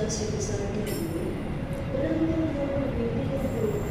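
The Argo Cheribon executive train runs at speed, its carriage filled with a steady low rumble of wheels on rails, with faint rattles and brief high squeals overhead.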